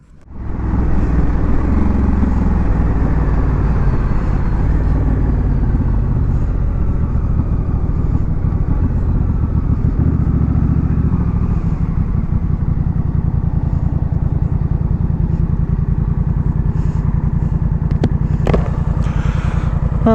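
A Honda Rebel 1100 DCT motorcycle on a ride with stock forward controls, its engine rumbling steadily and loud throughout with strong wind noise, the tone shifting gradually as speed changes.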